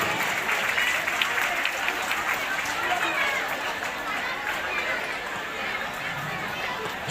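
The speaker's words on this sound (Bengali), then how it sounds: "সবাই একটু হাততালি দাও।" Sustained applause from students at a school New Year celebration, honoring the teachers of a high school; steady, dense clapping fills the whole stretch with faint crowd murmur beneath.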